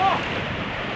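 Ocean waves wash at a fishing spot in a broad rushing roar mixed with wind buffeting the microphone, loud and close for a brief moment.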